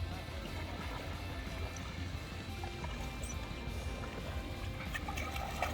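A boat moves across a lake with a steady low rumble under continuous splashing and trickling water, close by, with no voices.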